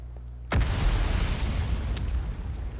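A single sudden explosion in the Outer Wilds video game, a sharp boom followed by a deep rumbling roar that lingers loud for a couple of seconds.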